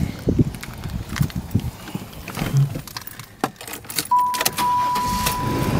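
A 1998 Chevrolet Monte Carlo cranking over and catching, with clicks and jingling keys near the start, then the engine settling into a steady idle close by.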